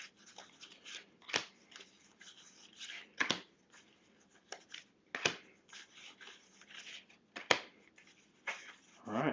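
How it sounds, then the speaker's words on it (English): Tarot cards riffle and slap softly in uneven bursts, with sharp snaps as the deck is shuffled and split by hand. "I'll just quickly give these ones a final shuffle"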